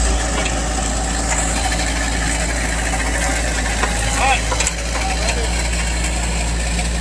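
Mini excavator engine idling nearby with a steady low rumble and faint mechanical clatter, a person speaking briefly over it.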